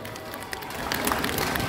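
Crowd applause swells at a Pokémon cardboard-costume fight event at Japan Touch Haru in Lyon, a dense rustle of clapping that rises and holds steady, with a faint voice underneath.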